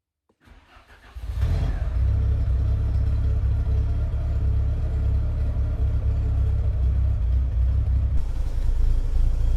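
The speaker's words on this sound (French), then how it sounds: "Je vais lancer le moteur" A Volkswagen Corrado G60 engine cranks and catches, then settles into a loud, steady low idle that rumbles on without interruption.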